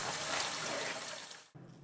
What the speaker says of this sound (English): Rinse the cabbage under cold running water.